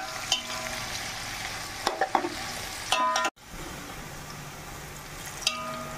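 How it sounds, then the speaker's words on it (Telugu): Sliced onions sizzle steadily in hot oil in a pan, frying until brown for mutton dum biryani, with occasional scraping stirs and clinks of a spatula over the continuous crackle. "ఈ ఉల్లిపాయలు బ్రౌన్ కలర్ వచ్చేంత వరకు వేయించుకోవాలి."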